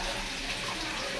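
Water poured over someone's hands at a family New Year's Eve party, a steady close splashing gush that runs unbroken for the whole moment.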